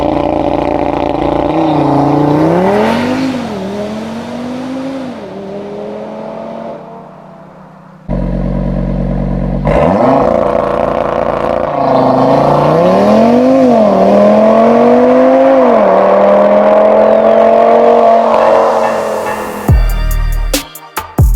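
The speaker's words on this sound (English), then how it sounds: "New exhaust makes it sound a bit more" Audi RS3 fitted with a Milltek non-resonated catback exhaust, revving hard in repeated loud rising and falling surges with a brief pause mid-way, close and dominant, ending in a cut-off.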